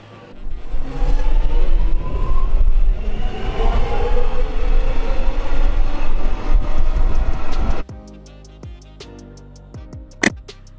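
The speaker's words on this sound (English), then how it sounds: "Metro train. An underground electric train system operating in major cities" An underground electric metro train rumbles along loudly with a steady roar, then the noise drops away, leaving rhythmic clicks and a sharp squeal near the end.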